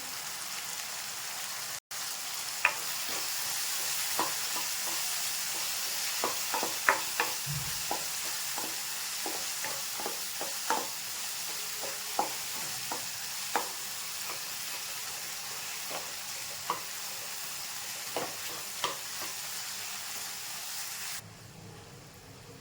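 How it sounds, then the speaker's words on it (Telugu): Tomatoes cook down in a pan while a spoon stirs them, soft sizzling running throughout with scattered light scraping clicks, close but fairly quiet, no talking. "బాగా మగ్గే వరకు కలుపుకుంటూ ఉండాలి"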